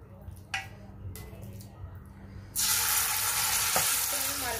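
Marinated chicken dropped into hot oil in a pan: after quiet kitchen clatter, a loud hissing sizzle bursts in and holds steady and close, with a faint click partway through.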